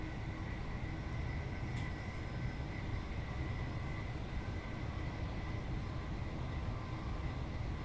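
A Thameslink train on the Brighton Main Line in Train Simulator runs at full speed, giving a steady, loud rumble of wheels and motors with a constant high whine over it, with no breaks, for the whole stretch.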